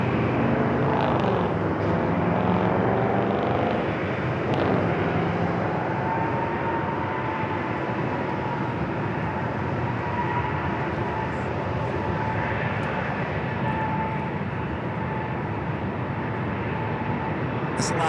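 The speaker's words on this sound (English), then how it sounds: "Alaska flight heading to Seattle, flight 622, 737-900ER." An Alaska Airlines Boeing 737-900ER, flight 622 bound for Seattle, at San Diego airport gives a steady, broad jet roar that holds loud throughout, with a faint whining tone running through the middle and no talk.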